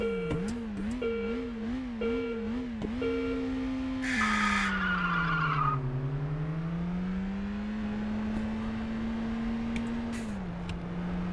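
A race car in a sim racing game hums along steadily, its engine pitch wavering as it shifts and brakes into a corner. A loud tire skid squeals over the engine midway through, then the engine drones on alone.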